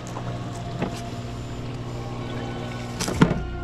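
Water from a koi pond waterfall flows in a steady close wash, fed by a pump in the skimmer basket, with a continuous low hum beneath it and a brief louder splash near the end.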